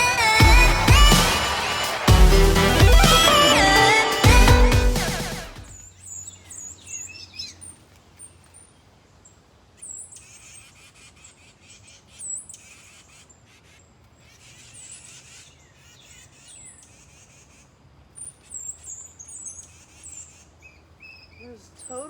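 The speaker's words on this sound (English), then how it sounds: "There's totally a bird fight going on" Outdoors, a loud stretch of music cuts off, then birds fight with sharp, high squawks and chirps in scattered bursts. The calls are moderately faint over a low background hum.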